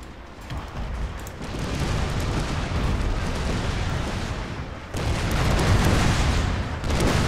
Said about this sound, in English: They are opening fire